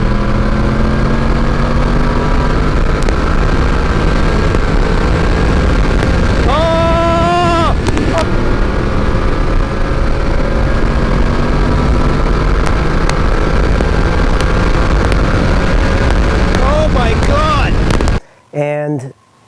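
A Yamaha VMAX motorcycle engine roars continuously as it pulls hard through the gears, a loud rising drone with wind rush over it, briefly dipping at a gear change and cutting off abruptly near the end.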